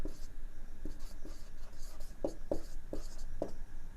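Chalk tapping and scraping on a classroom board in a series of short, evenly spaced strokes, fairly faint, with no talking over them.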